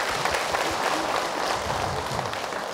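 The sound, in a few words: applause for Ibu Wiwin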